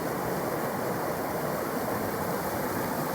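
Water rushing through rocks as it comes down off a mountain, a steady broadband roar that stays constant and fairly close throughout, with no voices.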